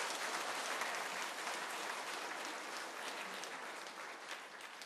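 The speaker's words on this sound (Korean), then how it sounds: "우리 성도님들 크게 축복하는 마음으로 박수로 축복해 주시기를 바랍니다." Church congregation applauding during a Sunday worship service after baptisms, a steady dense wash of many hands clapping together, sustained and even throughout.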